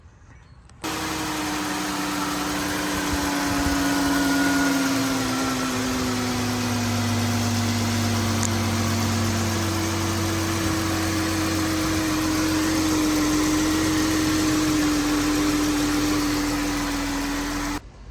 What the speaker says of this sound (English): once you crank up your motor and you see everything is running right, nothing's slipping